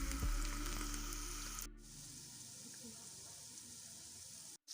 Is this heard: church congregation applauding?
no